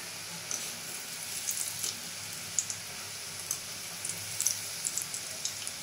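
Monakka sweets sizzle steadily in hot oil, a soft continuous frying hiss dotted with small pops and crackles, fairly quiet and close, with no voices.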